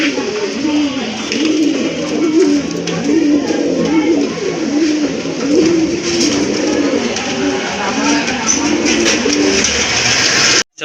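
Pigeons at a pigeon seller's coo continuously in close, overlapping rhythmic phrases, a loud and steady chorus with no talking.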